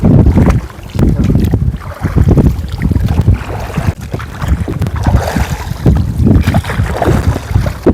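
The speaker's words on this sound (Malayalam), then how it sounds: "ഇപ്പോൾ എന്നോടൊപ്പം ഈ വള്ളം നമ്മൾ തുഴഞ്ഞു വരുന്നത്" A wooden country boat being rowed on Sasthamkotta lake, Kerala's largest freshwater lake, with close, rhythmic splashes and water movement under heavy wind buffeting on the microphone.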